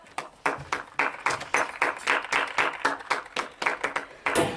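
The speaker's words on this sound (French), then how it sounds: "Applaudissez-le bien fort." Audience clapping in a parody Olympic medal ceremony, a fairly loud rhythmic burst of many hands beating in quick regular pulses, heard alone without talk.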